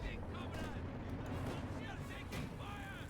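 Rapid machine-gun fire and battlefield gunfire from Company of Heroes 2, a dense, continuous crackle running under steady talk throughout.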